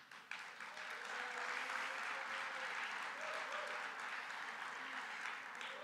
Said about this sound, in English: please give a round of applause to Programs Director Dana Thomas,